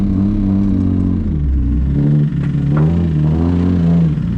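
A turbocharged Nissan VQ35 engine with bent rods revs in neutral inside a garage, a loud steady low rumble with a few throttle blips rising and falling over about four seconds.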